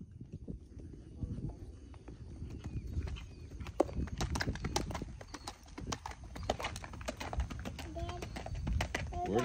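A Haflinger/Saddlebred cross horse lopes, its hoofbeats thudding in a steady rolling rhythm at moderate distance, with faint background noise throughout.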